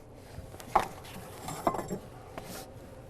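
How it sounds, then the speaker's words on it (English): A metal muffin tin is picked up and set down in a kitchen, giving two or three brief clanks and clinks against a quiet background. "So we'll take our muffin tin,"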